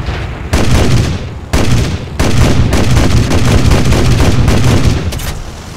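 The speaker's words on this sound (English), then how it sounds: "Alright, cannons back up." Aircraft cannons on a Russian fighter in War Thunder air combat, firing during a dogfight: loud, rapid automatic bursts in long strings broken by a couple of brief pauses, with engine roar underneath and no talking.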